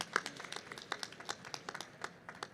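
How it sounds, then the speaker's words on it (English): A small audience claps at a health tech business pitch competition, a brief, fairly quiet burst of scattered clapping heard from a distance. "Round of applause, please."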